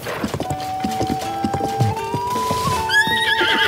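A horse in the game Zelda: Tears of the Kingdom whinnies with a rising, wavering neigh over scattered hoof clops and thumps, close by and fairly loud.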